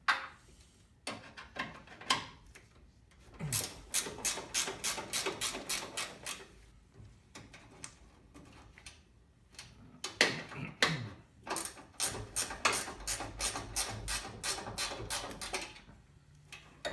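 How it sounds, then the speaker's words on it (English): A ratchet wrench works radiator bolts on a Mazda with a 13B peripheral port rotary engine, heard as several bursts of rapid, close clicking separated by short pauses and a few metallic clunks. "Okay, that's the first 2 set of bolts, first set of 2, and now these."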